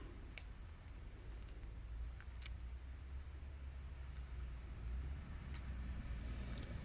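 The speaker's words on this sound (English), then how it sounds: "Apologize for the traffic." Road traffic passes steadily outside, a low continuous rumble of cars heard faintly and at a distance from indoors, with occasional small ticking and clicking sounds nearby.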